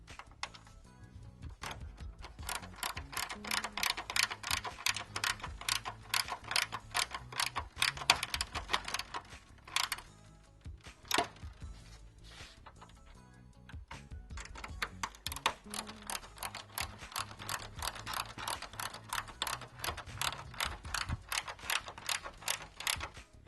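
Mechanical clicking and ratcheting from tightening the hardware that fastens a 2003-2006 GMC Sierra grille through two layers of plastic into the shell, rapid and dense, with short breaks, running steadily close by.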